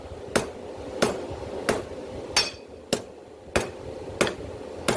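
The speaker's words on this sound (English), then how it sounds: "I'm going to hit it really hard, even on the edge of the anvil" Hammer striking hot steel on the edge of an anvil at a forge while shaping a herb chopper blade, eight sharp ringing blows at a steady rhythm roughly every two-thirds of a second, close and loud, with no speech.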